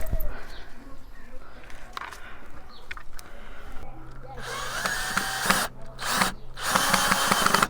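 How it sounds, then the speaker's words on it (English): A power drill whirs steadily for a few seconds at close range, drilling a small hole in a plastic water butt in a Scottish garden, with brief pauses and restarts, after quieter outdoor background noise. "I need to drill a tiny little hole in the side of the water butt"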